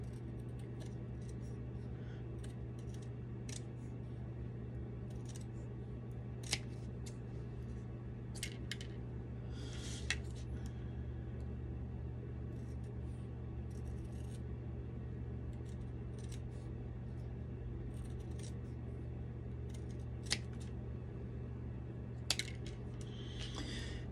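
Pieces for a DIY Lucille bat build are trimmed out, giving a few faint, sparse snips and clicks spread over a quiet, steady background hum.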